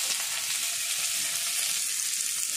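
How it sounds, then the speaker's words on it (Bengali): Chopped onions fry in oil with whole cumin and bay leaf, a continuous bright sizzle with dense crackle that holds at an even, moderate level throughout, close and unaccompanied. "পেঁয়াজটা ভালো করে ভেজে নেব"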